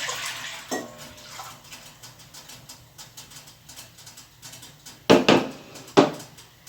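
Liquid pours and splashes into a container with a few sharp clinks of a vessel, close by and moderately loud, no talking.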